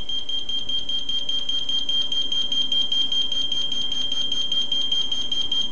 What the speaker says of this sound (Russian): Срабатывает звуковая световая сигнализация базового блока